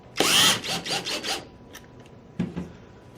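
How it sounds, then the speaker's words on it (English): Power drill driving Phillips head screws into a Tippmann A5 paintball marker, one whirring, rasping burst with a few pulsing pauses, then a short second burst, close and fairly loud with no talking. "Just go ahead and tighten down those Phillips head screws."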